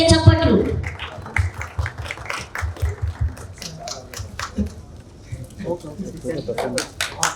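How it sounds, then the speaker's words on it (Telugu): Audience applause at a Telugu movie trailer launch event, scattered claps rising and falling beneath an announcer's voice talking over the crowd. "ఒకసారి గట్టిగా చప్పట్లు."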